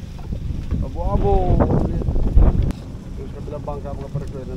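Small outrigger boats, bangka, at a village shoreline, heard as a steady low engine and water rumble with wind buffeting the microphone, while people chatter nearby throughout.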